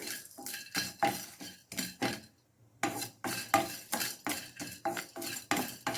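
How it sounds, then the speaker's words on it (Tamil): Cloves and cinnamon dry roast in a pan for biryani while a utensil stirs them in quick, regular strokes. The close scraping and metallic clinks stop briefly midway, then resume; there is no sizzle. "இதை ட்ரையாக வறுத்து எடுத்துக்கலாம் லைட்டாக வறுத்தா போதுங்க"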